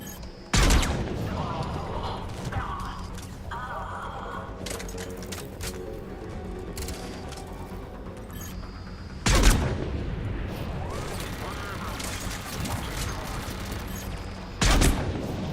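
Mass Effect 3 combat with sporadic loud gunshot bursts and impacts, a few sharp blasts standing out amid ongoing game sounds and a voice talking throughout.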